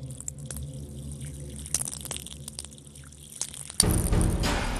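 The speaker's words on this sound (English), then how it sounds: "if I pour a little water on it, you should be able to hear it crack." Water is poured onto a sheet of ice: faint drips and small ticks first, then a sudden, loud, sustained splashing pour near the end.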